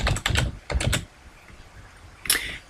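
Quick clusters of keystrokes on a computer keyboard while entering text into a PowerPoint 2010 slide, close and crisp, with a short pause before a final few taps.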